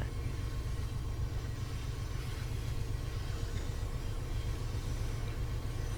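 HSP46 diesel locomotive accelerating in Train Sim World, a steady heavy engine roar with deep rumble and broad rail noise, constant and loud throughout.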